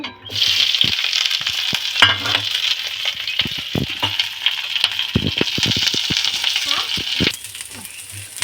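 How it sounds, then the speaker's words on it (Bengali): Dried red chilies and nigella seeds frying in hot oil, a close, crackling sizzle with scattered sharp pops and stirring clatters, fairly steady before easing slightly near the end. "শুকনো লঙ্কা তেলে দিলাম কালো জিরা তেলে দিলাম তেলে দিয়ে দেব"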